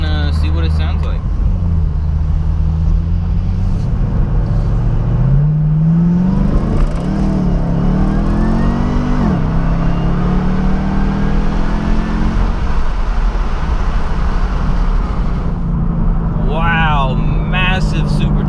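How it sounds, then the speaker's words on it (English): A Chevrolet Camaro ZL1's supercharged engine revs with a rising whine over a loud, continuous exhaust rumble, heard close by with voices talking over it and a brief surge in pitch midway. "Massive Supercharger whine."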